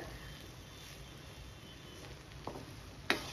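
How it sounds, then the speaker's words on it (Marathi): Vegetables and paneer sautéing in a pan for masala rice, giving a low steady sizzle with a couple of clinks and scrapes from stirring near the end, quiet and with no talk. "हा चांगला असा परतवून घ्यायचा आहे आपल्याला"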